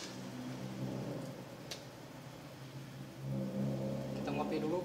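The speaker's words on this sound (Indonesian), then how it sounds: "Sebentar bos ya, banyak kendaraan lewat" Several vehicles pass along a road, their engines forming a low continuous rumble that swells louder toward the end as traffic goes by nearby.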